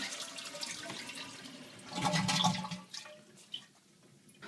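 A toilet under repair flushes nearby with a rushing surge of water that peaks, then drains away into quieter trickling and a drip.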